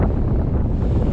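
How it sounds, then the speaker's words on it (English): Steady, loud wind buffeting a microphone on the Pacific Crest Trail, a continuous low rumble that fills the whole clip without a break. "it's pretty windy now"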